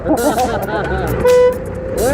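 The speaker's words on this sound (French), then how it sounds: "Et l'autre derrière, il klaxonne" Car horn from a driver behind, one short loud toot amid traffic noise, with people talking around it.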